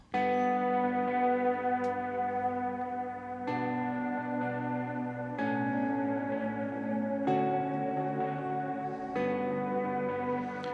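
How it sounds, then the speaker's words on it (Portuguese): An electric guitar plays sustained chords through stereo delay and reverb pedals, each strum blooming into long echoing tails that overlap the next, a steady, lush wash with no talk. "Pra quem tá ouvindo, deve tá lindo esse reverb."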